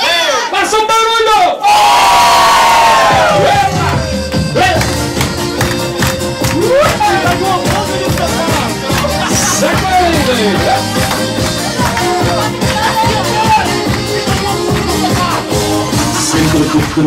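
Audience at a Portuguese festival in Guernsey cheering and shouting loudly, a burst of yelling at the start, then a dense crowd roar under steady loud music for the rest.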